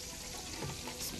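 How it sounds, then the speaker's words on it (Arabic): Rice sizzles in hot oil in a pan, a soft continuous frying hiss with slight stirring movement, brief and fairly quiet. "الحين العيش بتسوينه فوق الزيت"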